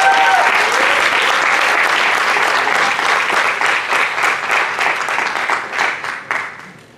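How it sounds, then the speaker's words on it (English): Loud audience applause at a high school music concert, dense clapping held steady for several seconds before thinning out and fading at the end. "Great big round of applause."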